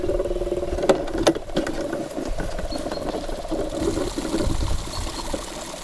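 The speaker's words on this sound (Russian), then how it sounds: "Так, подключаем насос. Так, сейчас он прокачает." A small water pump for a campervan shower system runs unevenly in jerky pulses, rattling and gurgling with water moving through it, close by with no talking.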